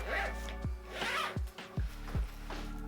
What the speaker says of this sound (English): And then I just zip it all up.